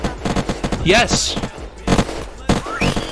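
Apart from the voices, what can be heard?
gunshots in the video game Unturned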